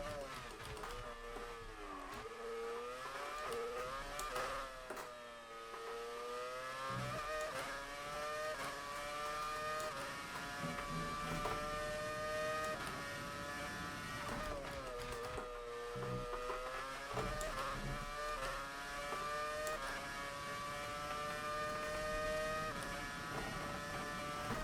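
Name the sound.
Brawn BGP001 V8 engine in F1 2019 video game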